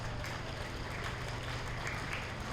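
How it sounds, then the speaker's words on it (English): A dense, steady wash of applause from the crowd at a 4-H steer show, brief and continuous, with a low rumble beneath. "Let's give them a round of applause."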